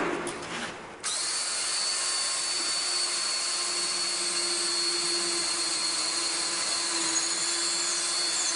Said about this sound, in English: you too could hear that the drill was a little bit sharp